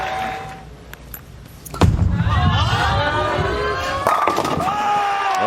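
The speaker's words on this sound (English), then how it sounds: "you can hear Kyle yelling over the crowd" Bowler Kyle Troup shouts loudly over a roaring crowd at the 2024 US Open bowling tournament; his sustained, excited yells rise above dense, continuous crowd noise after a quieter opening.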